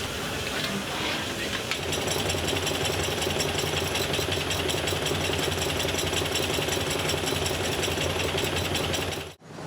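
An industrial steam hammer from the Great Northern, Burlington Northern shops in St. Paul, Minnesota, runs at a steam show, giving a dense, loud, continuous rapid pounding that carries on without a break before cutting off abruptly at the end.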